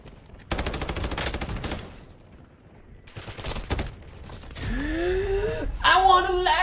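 Rapid bursts of automatic gunfire from Call of Duty multiplayer, dense and loud in two stretches, then lighter shots under an energetic voice and other game effects.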